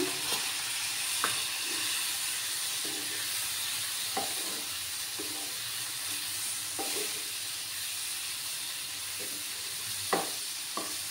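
Soybean curry with a little added water sautés in a pan with a constant loud sizzle and hiss, while a spoon stirs it in periodic scraping strokes.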